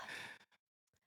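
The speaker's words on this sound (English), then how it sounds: "that was a real yawn though" A person yawns: a long breathy exhale, then a few short soft breaths trailing off into quiet, close to the microphone.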